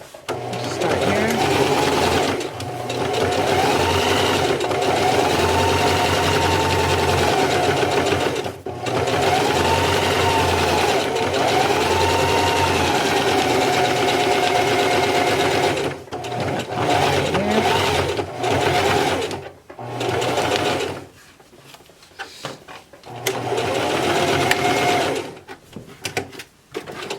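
Fabric pieces for a drawstring backpack are stitched on a sewing machine in long, steady whirring runs with short stops, close and loud, while someone talks over parts of it.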